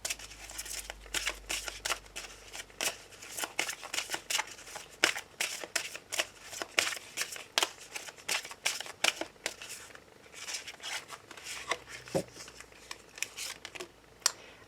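Tarot cards are shuffled for a card reading in a steady run of close, crisp riffles and flicks that carries on for several seconds, with no voices.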